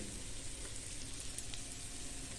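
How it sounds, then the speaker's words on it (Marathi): Vada pieces pan-frying in oil in an appe pan, giving a steady close sizzle and crackle that runs without a break. "या वड्यांना असं आलटून पालटून आपण गोल्डन कलर येस तोपर्यंत भाजून घ्यायचं"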